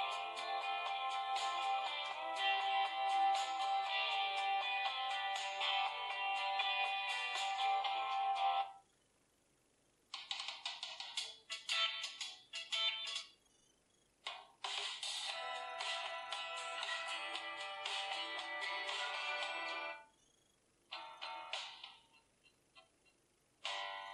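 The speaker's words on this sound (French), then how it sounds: "on peut écouter quelques musiques libres de droit trouvées sur la bibliothèque audio de YouTube" Royalty-free instrumental music plays through the built-in speaker of an Elephone P8 Max phone, bright and thin, in sections broken by short silent gaps, with no one talking.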